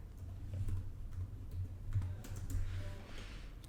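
Keys clatter steadily on a computer keyboard while a purchase order entry is typed into business software, a quick irregular patter of close, soft clicks with no talking.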